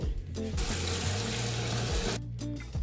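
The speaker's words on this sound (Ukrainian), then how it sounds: "Беремо каструлю і набираємо в неї воду." Water runs steadily from a tap into a pot, a full gushing flow with brief changes in pitch as the vessel fills.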